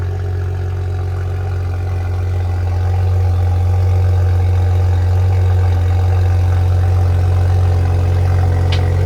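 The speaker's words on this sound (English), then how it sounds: "It makes a little bit of noise. It does have an aftermarket exhaust." A used Toyota Supra 3.0 with an aftermarket exhaust idles steadily nearby, a loud, constant low rumble with a deep hum that stays even throughout, with no talking.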